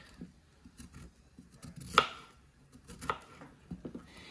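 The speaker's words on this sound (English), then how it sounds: "I think I need to chop them smaller than that." Knife chopping cauliflower into smaller pieces on a board, a handful of soft scattered cuts with one sharper, louder knock, close and quiet with no talking.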